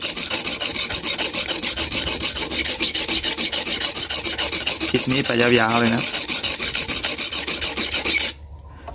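Steady, continuous rasping of a knife blade being sharpened, a harsh scraping that runs for several seconds before stopping abruptly; a brief voice comes in partway through.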